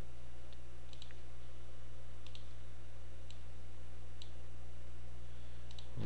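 Faint, sharp mouse clicks sound one at a time and sometimes in quick pairs, spaced a second or so apart over a low steady computer hum, with no talking.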